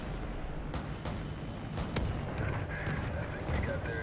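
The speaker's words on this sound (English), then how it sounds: "AC-130 in the air" An AC-130 gunship fires in a video game, with heavy rumbling booms and sharp cannon cracks rolling over a steady battle din, while a voice briefly talks underneath.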